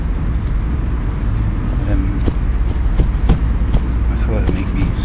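Low, continuous rumble of early-morning road traffic picked up by a microphone covered with a balloon, with occasional sharper bumps and handling thuds over the steady drone.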